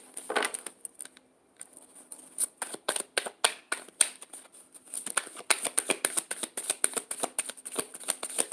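A mixed emotions card deck being shuffled by hand, close and crisp: rapid riffling bursts of card flicks with a brief pause early on, then steady repeated riffles through the end.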